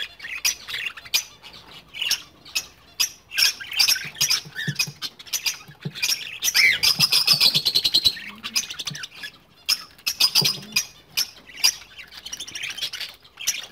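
Cockatiels in an aviary give repeated sharp chirps and squawks in quick irregular bursts, fairly close and moderately loud, with fluttering and pattering movement between calls and no talking.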